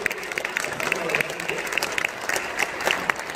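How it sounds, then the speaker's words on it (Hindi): An audience at a Hindi poetry gathering breaks into sustained applause, many hands clapping fairly close and evenly for the whole stretch, with a voice faintly heard over it. "बहुत बढ़िया आपके प्रतिक्रिया है, तालियां बजा रहे हैं।"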